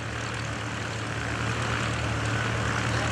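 Loud, steady propeller-engine roar from an aerobatic airplane climbing at the 2011 Greenwood Lake airshow, a sustained buzzing drone with a low throbbing hum and no voices over it.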